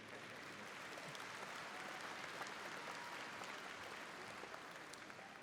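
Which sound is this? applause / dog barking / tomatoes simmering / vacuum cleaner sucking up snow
applause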